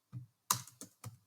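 A few quick keystrokes on a computer keyboard, four distinct close taps in a quiet room.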